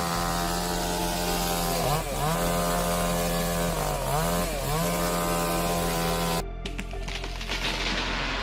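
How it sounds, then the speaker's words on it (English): A small chainsaw cuts through a pine tree, its loud, steady buzzing engine dipping in pitch twice as the chain bogs into the wood, then a sudden rough crackling burst near the end as the tree gives way. "Cutting a pine tree with a chainsaw is both an art and a science."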